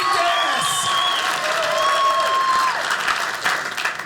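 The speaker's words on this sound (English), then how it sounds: "You guys, you did not have to stop clapping." A comedy club crowd claps and cheers at the start of a stand-up special, a loud sustained wash of applause with scattered whoops over it, beginning to taper near the end.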